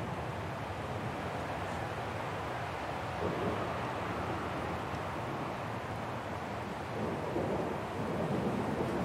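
A thunderstorm rages in the video game Syberia The World Before, a continuous dense rush of rain and low rumbling, steady and moderately faint with no voices.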